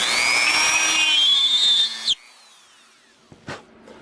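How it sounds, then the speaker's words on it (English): A high-pitched Dremel rotary tool whines steadily with a rising and falling pitch while drilling a hole in a fishing lure, then cuts off abruptly, followed by faint clicks and a brief knock. "I'll just drill the hole. Take the Dremel."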